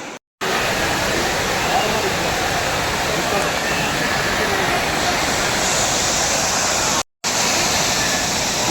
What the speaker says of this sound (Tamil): கொடிவேரியில் தண்ணி சும்மா பயங்கரமாக போயிட்டு இருக்குது